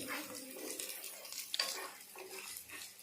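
Ginger and garlic frying in oil for chicken curry, a soft continuous sizzle mixed with scraping stirs and light clinks of a utensil against the pan, close and fairly quiet.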